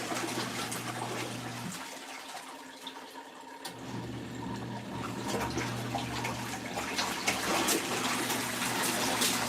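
Water sloshes and splashes inside the drum of an LG ThinQ washer on a deep wash cycle, a steady close wash with a low hum that drops out briefly, then returns with rising surges.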